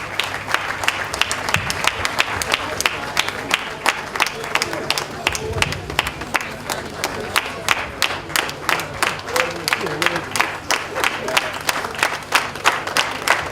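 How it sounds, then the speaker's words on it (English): A graduation ceremony audience gives a round of applause, with dense, steady clapping throughout and a murmur of crowd voices beneath it. "A round of applause, please."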